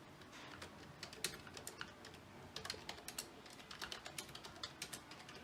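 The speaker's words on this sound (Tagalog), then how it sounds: "Test na natin yung pinaka-keyboard." Fingers type on a Logitech MK235 wireless keyboard, a close, quiet stream of soft key taps in an uneven rhythm with brief pauses, no voices present.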